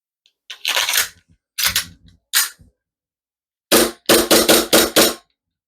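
Replica pistol firing on compressed green gas, with a few separate snappy pops followed by a quick string of five rapid shots, loud and close with no voices.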